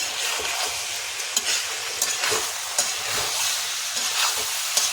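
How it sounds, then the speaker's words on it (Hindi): Steady hissing sizzle of mixed vegetables stir-frying on high heat in a hot pan, with occasional scraping clicks from stirring; no voices, fairly close. "अच्छे से इसको हाई गैस तेज करके भून लेंगे जरा से"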